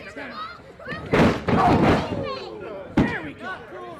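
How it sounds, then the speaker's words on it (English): Loud thudding butt slam onto a wrestling ring mat during a studio match, heavy impacts under excited commentary and crowd noise, with a second thump near the end. "And a butt slam by Mercer against Tiger Claw."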